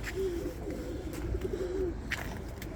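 Pigeons coo softly in a bird keeper's loft, a low, rolling murmur of repeated coos close by over faint background noise.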